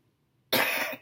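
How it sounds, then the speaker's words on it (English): A single loud cough bursts in halfway through after near silence, close to the microphone, harsh and broadband, fading out over about half a second. "I'm needing to cough again"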